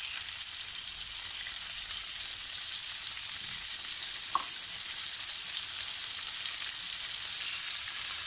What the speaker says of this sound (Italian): Si fa rosolare per bene e poi si sfuma